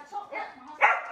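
A new pet dog gives short barks and yips at close range, mixed with people talking nearby.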